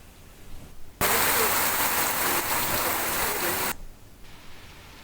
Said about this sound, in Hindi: राजधानी देहरादून में झमाझम बारिश हुई